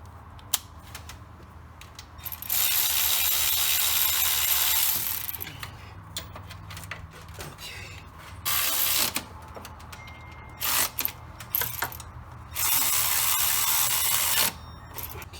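A ratchet tightens the bracket screws on the power steering pump of a 2007 Chevy 2500 HD with a gas engine, producing long runs of rapid clicking close by, broken by brief pauses and shorter bursts.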